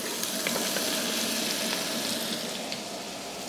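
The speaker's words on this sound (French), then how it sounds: "je vais faire un petit peu torréfier dans le fond de ma casserole" Steady, close sizzling of bacon lardons frying in the bottom of a saucepan, a continuous crackling hiss with small pops throughout.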